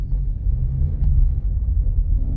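A 2024 SEAT Arona FR, freshly rebuilt, runs and drives with a steady low engine rumble heard from inside, continuous and moderately loud with no speech.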